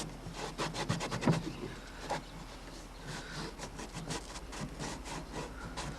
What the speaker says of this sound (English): I don't even know if you can see where I'm scrubbing